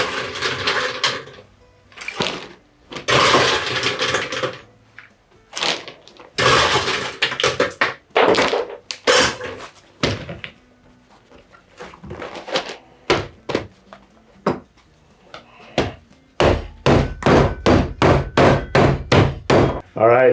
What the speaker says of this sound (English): I'm going to go ahead and make some crushed ice now in my favorite Lewis bag and hammer.